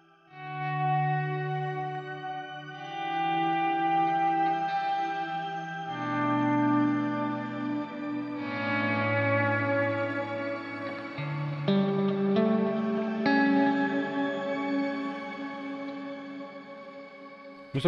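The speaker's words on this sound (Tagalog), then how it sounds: "Pagaluin natin yung delay and reverb." Nux MG30 guitar processor running shimmer, delay and reverb effects: a steady stream of sustained guitar notes and chords with long washing tails and bright shimmering overtones, continuous and fairly loud with no talking.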